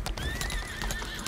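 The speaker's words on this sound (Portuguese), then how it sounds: "Esse cavalo é muito bonito" A horse in the video game Lost Ark, with rhythmic clip-clop hoofbeats and a whinnying neigh, loud and close, heard alone.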